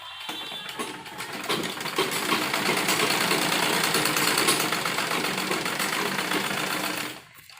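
A sewing machine runs steadily, basting loose stitches around embroidered blouse pieces, a fast rattling whir that starts, holds for several seconds and then stops.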